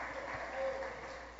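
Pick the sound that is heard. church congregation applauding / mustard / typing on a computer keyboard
church congregation applauding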